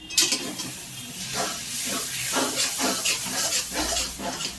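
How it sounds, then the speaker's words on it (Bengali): Turmeric powder is stirred into sizzling chicken fry in a pan, a loud continuous hiss broken by repeated scraping strokes of the spoon. "1 চামচ দিয়ে কিছুক্ষণ নেড়ে নেব"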